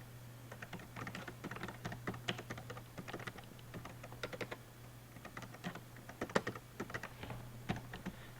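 Typing on a computer keyboard: quick irregular key clicks in short bursts with brief pauses, fairly quiet and close, no voices over it.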